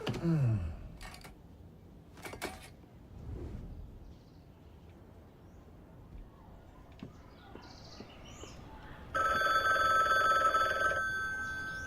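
Electronic phone ring in the video game Bookwalker, faint and intermittent within a quiet game scene, ending in a louder sustained ringing burst near the end.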